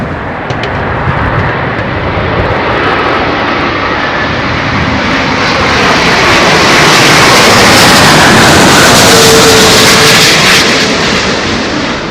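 An Airbus A350 airliner lands in a gusty crosswind on runway 27L at London Heathrow, a loud roaring jet engine rumble heard from nearby that swells steadily and stays strong throughout.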